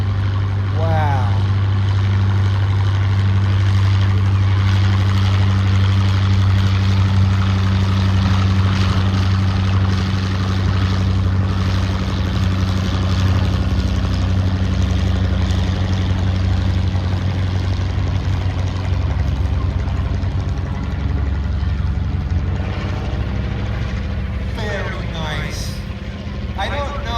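A Stinson L-5 Sentinel or Fieseler Storch flies at an air show demonstration, its propeller engine producing a loud, steady droning hum that holds nearly constant, fading slightly near the end.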